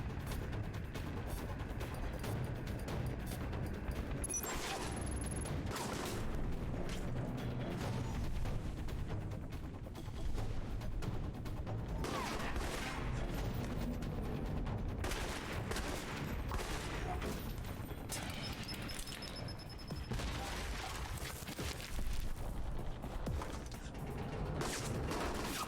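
Enemy gunfire crackles in a PC action-stealth game, Alpha Protocol, bursts of shots layered over dense mechanical clatter and continuous game noise throughout.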